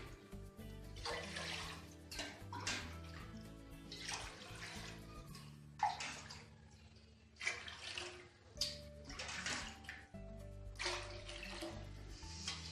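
Glassfuls of water are poured one after another into a pot for making rice sandige, several separate close splashing pours with short pauses between them.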